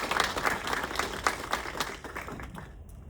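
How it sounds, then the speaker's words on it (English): Moderate audience applause at a genetic counselor appreciation seminar, continuous clapping that softens and dies away toward the end. "another huge round of applause for"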